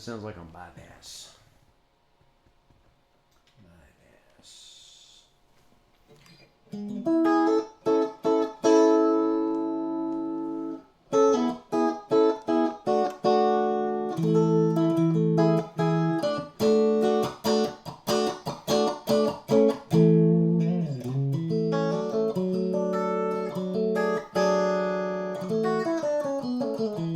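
Clean electric guitar notes and chords ring out after a quiet start through a 20-foot ZEROCAP VC cable on bypass, played with steady picking and sustained tones, dry and close without effects.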